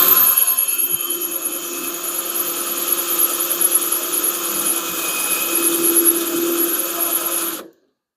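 A cordless drill bores through the trunk lid of a Plymouth Duster, a steady close-up whirring whine that holds for about seven seconds before cutting off abruptly.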